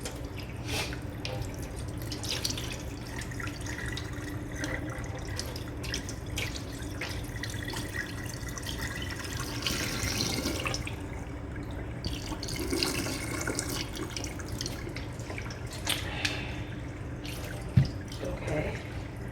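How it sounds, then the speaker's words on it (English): Water draining and dripping into a kitchen sink as rinse water is strained off steak for cheesesteak sliders, a steady trickling wash with scattered drips and clinks, moderately faint and close. "And I'm gonna strain the water."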